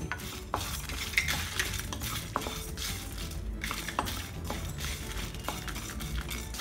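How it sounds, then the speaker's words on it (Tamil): Lentils, cumin, fenugreek, fennel and rice dry-roast in a pan, stirred with a spatula into a quiet, close, continuous rustling scrape with occasional sharp clinks against the metal. "நல்லா வாசம் வர வரைக்கும் நல்லா வறுத்துக்கணும்."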